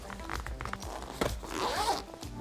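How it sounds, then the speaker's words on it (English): The zipper on an Aputure Amaran AL-F7 light's carrying case is dragged open in a few jerky pulls, a close, raspy zip with short stalls and tugs between strokes. "Zipper doesn't want to work."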